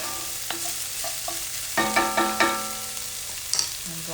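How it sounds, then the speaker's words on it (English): Ingredients for Jamaican rice and peas sauté in a pan, a soft steady sizzle punctuated by a few sharp scrapes and taps of a spoon against the pan, fairly close, with no voices. "And I'll saute that for a bit."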